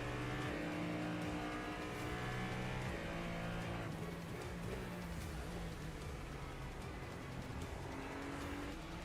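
GT3 race cars race at Long Beach, a dense, continuous roar of many engines revving and shifting pitch as the pack passes close by, loud and unbroken throughout, with no voices.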